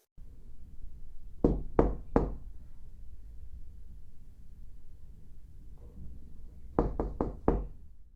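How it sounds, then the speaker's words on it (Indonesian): Knocking on a house door in a horror story: three slow, sharp raps, a quiet pause, then four quicker knocks, close and distinct over a low hum. "terdengar ketukan di pintu rumah mereka"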